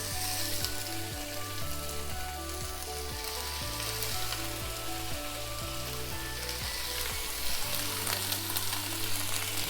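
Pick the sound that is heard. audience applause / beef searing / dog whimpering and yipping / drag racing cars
beef searing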